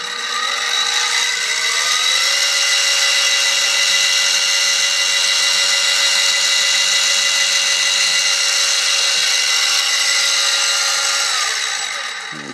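A drill bit boring a hole on a SIEG X2D milling machine, a loud, steady motor whine with a high cutting tone held for about twelve seconds before winding down.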